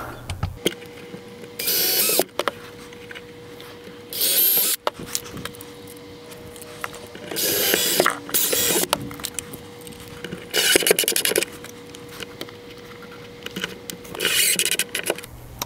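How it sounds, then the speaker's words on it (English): A power drill pre-drills screw holes to mount a circuit breaker in an RV travel trailer, running in several short, close bursts separated by quiet pauses and light handling noise. "Let's pre-drill."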